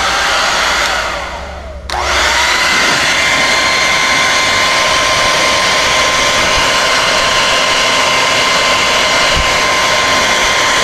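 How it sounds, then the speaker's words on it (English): A blow dryer runs steadily and loudly to dry shielding paint in a guitar control cavity, a continuous whooshing roar that briefly dips in pitch near the start, then holds even, alone without speech. "just get a blow dryer."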